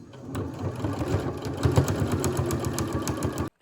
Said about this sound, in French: je commence à le poser sur la poche pour pouvoir commencer à coudre les poches sur le devant